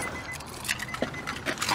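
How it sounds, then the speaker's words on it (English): Keys jangle and clink close by for a couple of seconds, with a faint click as an Infiniti FX is switched off; no talking. "let's turn off the car."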